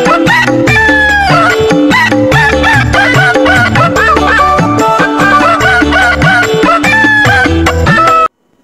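A toy rooster plays a loud, repeated electronic crowing call over a jingly tune, close and continuous, then cuts off abruptly at the end.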